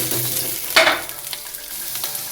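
Diced potatoes frying in a pan with dried red chilli, cardamom and clove for a spicy potato curry, loud close sizzling with a sharp burst as the pieces are stirred.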